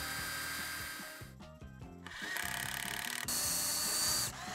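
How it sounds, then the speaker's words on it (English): A power drill whirring as it pre-drills wood up close, its motor pitch rising and falling as it bites, with a short stop before drilling resumes louder. "You wanna take a drill gun and pre-drill that."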